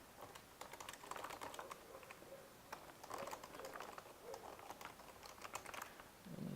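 Someone types a Twitter handle on a computer keyboard, a quick run of light clicking keystrokes in irregular bursts, fairly quiet and close, with brief gaps between the groups of taps.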